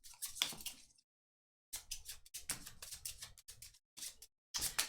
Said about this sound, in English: So I'll shuffle and draw.